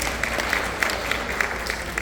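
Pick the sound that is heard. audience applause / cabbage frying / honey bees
audience applause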